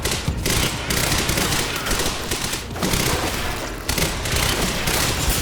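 Tactical SMG fire in the shooter game Quantum Break, a dense rapid rattle of automatic bursts with thumping impacts that continue almost without pause.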